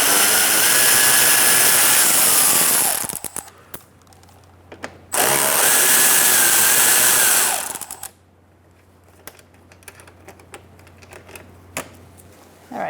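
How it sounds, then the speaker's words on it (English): A power tool with a 10mm socket spins out splash shield bolts under a 2004-2009 Mazda 3, two loud whirring bursts of a few seconds each, each followed by clattering and ratcheting clicks. "we're going to take out these two bolts on the bottom to take off the side shield"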